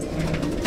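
Racing pigeons at a club training session cooing close by in a short, soft burst of throaty calls, with no talking.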